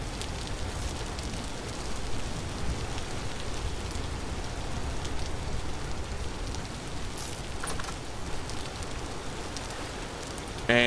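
Steady rain falling in the Vintage Story survival video game, a continuous soft hiss of drops at even loudness throughout, with no talking.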